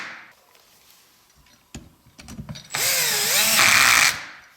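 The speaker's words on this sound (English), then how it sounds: "is just the clutch slipping, because I have it on a drill setting" A power drill set to drill mode drives a part into a 1/4 scale 4x4 RC crawler build, giving a few sharp knocks and bangs before a loud, sustained whirring burst as the clutch slips, heard up close with no talking.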